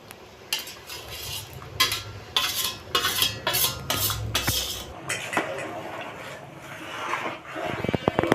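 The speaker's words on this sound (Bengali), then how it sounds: "এবার ভেজে রাখা কপিগুলো খিচুড়ির মধ্যে দিয়ে দেবো।" Metal spoon clatters and scrapes against a pot as fried cauliflower goes into khichuri and gets stirred, a run of close, busy clinks and rubbing strokes, loud at first and then softer.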